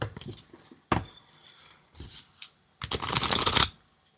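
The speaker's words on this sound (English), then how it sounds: "They don't get well shuffled that way." Tarot cards being shuffled by hand in several quick riffling bursts separated by short pauses, with the last burst the longest and loudest, close up and with no talking.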